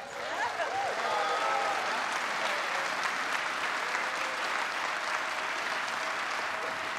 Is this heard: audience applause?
yes